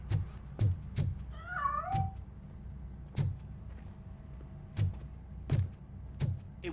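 A cat gives a short rising-and-falling meow in a RoboCop: Rogue City video game scene, heard amid a series of sharp, evenly spaced thumps or footfalls over a quiet background.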